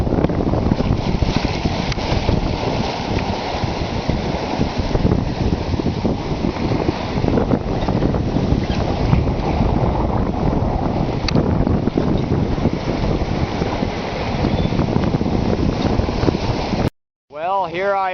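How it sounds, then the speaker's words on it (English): A sailboat runs under its genoa with a small storm jib sheeted to windward, on a solo ocean passage from Fatu Hiva to Rangiroa; steady, loud wind and water rush fill the scene, with a brief drop-out near the end. "here I am, sailing along once again from Fatuhiva to Rangiroa"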